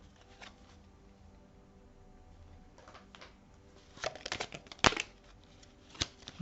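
An oracle card is drawn from a deck: faint shuffling and rustling of cards, then a few sharp, close flicks and snaps as a card is pulled out, in a quiet room.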